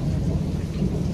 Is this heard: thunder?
yes